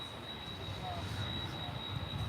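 An American Airlines jet takes off at DFW airport, its engines giving a continuous, fairly loud roar with a thin high whine, while a voice may be faintly present underneath.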